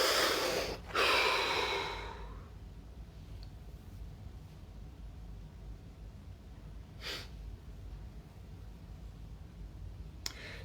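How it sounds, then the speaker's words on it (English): One deep breath: a loud, close inhale that eases off over a couple of seconds, followed by quiet room tone with a few faint clicks. "Deep breath."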